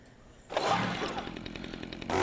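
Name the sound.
chainsaw in video game Dead Rising 2 Case 0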